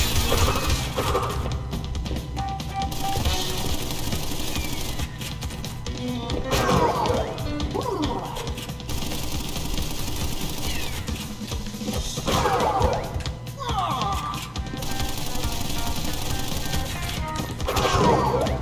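Rapid bursts of machine gun fire and heavy thuds come from a boss fight against Pinstripe in the Crash Bandicoot video game, with dense game effects and music throughout.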